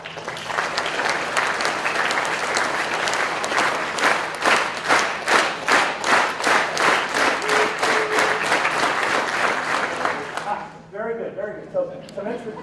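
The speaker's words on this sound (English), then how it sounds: "If I ask you to clap in sync," A lecture-hall audience claps together, the scattered applause quickly locking into a steady, loud rhythmic beat that carries for about ten seconds before dying away into light murmuring and talk.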